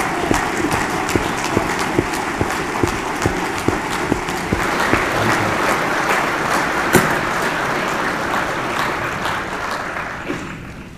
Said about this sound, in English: please stand and give a round of applause for our distinguished guests